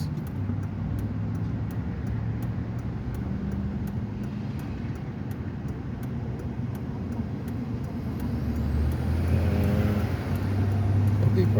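Backed-up highway traffic on Route 93 South after a small crash, a steady low engine and tire rumble that swells toward the end as a vehicle passes close.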